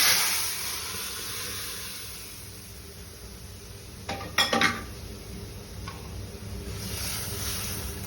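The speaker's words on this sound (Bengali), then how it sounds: "রসুনটা ব্রাউন হয়ে গেছে, এবার আমি ডালটা এর মধ্যে ঢেলে দেব" Lentils poured into a pan of browned fried garlic for lau dal, a brief clattering, splashing burst around the middle over a steady frying hiss, with a smaller clink shortly after.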